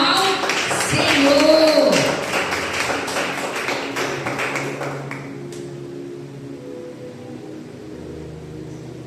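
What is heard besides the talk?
congregation applauding to welcome a speaker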